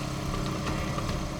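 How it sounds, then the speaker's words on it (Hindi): A motorcycle engine runs steadily at night as the bike pulls away, a continuous mid-pitched drone held at fairly even loudness for the whole stretch, with no voices over it. "ये कौन जा रहा बाइक पे?"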